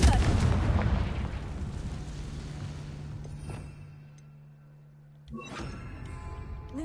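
The Confringo fire spell in the video game Hogwarts Legacy bursts as a loud rumbling blast that slowly fades. A second sharp explosion erupts near the end, with no voices.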